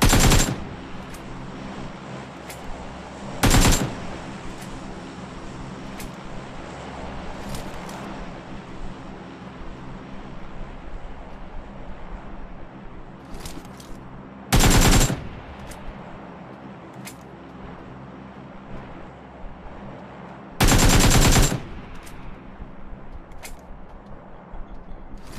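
Gunfire in a shooter video game comes as several short, loud bursts of rapid shots at irregular intervals, with quieter background noise and faint clicks between them.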